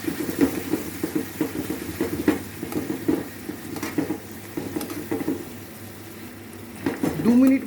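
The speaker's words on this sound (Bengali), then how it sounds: "গ্রেভিটা ফুটে গেছে, এবার এর মধ্যে আমি দিয়ে দেবো পনিরগুলো" Paneer cubes dropped into a boiling gravy for handi paneer and stirred around the pan, with steady sizzling and bubbling, scraping spoon strokes and a few soft knocks, close and moderately loud, no talking.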